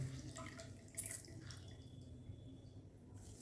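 Water trickles and drips softly from a slice of bread soaked and squeezed by hand while making potato tikki in a home kitchen, faint and close with a few small splashes.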